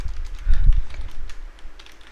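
Brief, soft bursts of keyboard typing while someone writes JavaScript code on a computer; several quick, close key taps come in a short flurry.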